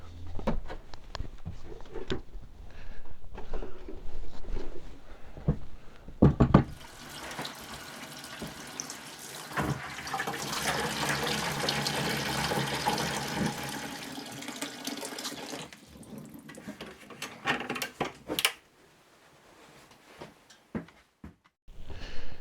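Water gushes steadily into a container in winter on a homestead for several seconds, a broad hissing rush that fades out, with clunks and handling noises before and after.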